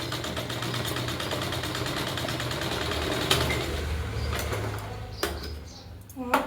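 A sewing machine stitches a seam on a katori cut blouse, a steady close mechanical hum and rattle that runs for several seconds and then winds down with a few clicks.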